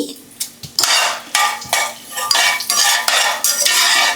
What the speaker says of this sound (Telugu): సో ఆవాలు చిట్టుపట్లాడుతున్నాయి కదండి